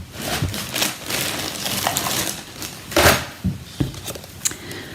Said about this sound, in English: So we have one of those whizzed round with the scissors.